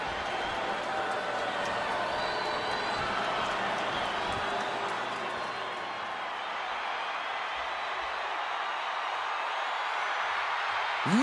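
Virtual arena crowd roaring in the WWE 2K24 video game during a women's WrestleMania battle royal, a steady loud wash of cheering and applause that holds through and swells briefly at the end, with commentary talk over it.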